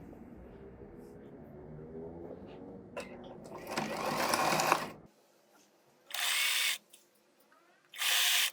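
Sewing machine sewing a twice-folded lining hem, a loud close whirring run of stitches followed by two shorter separate bursts with quiet gaps between.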